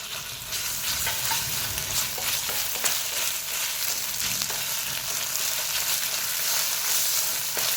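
Ginger garlic paste frying with onions in a pan for a paneer curry, a steady close sizzle with stirring scrapes running throughout and no voice.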